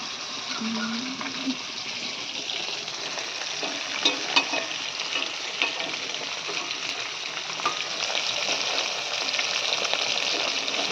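Bhetki fish sizzles steadily in hot oil in a pan in a village kitchen, a constant bright frying hiss with occasional pops and crackles throughout, no talking.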